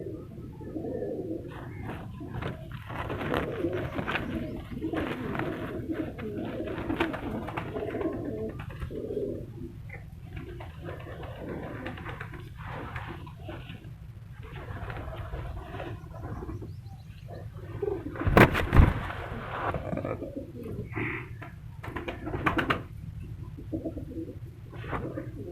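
Pigeons coo in a pigeon farm shed, with repeated soft low cooing calls that overlap continuously at close range, and a brief flurry of louder noise partway through.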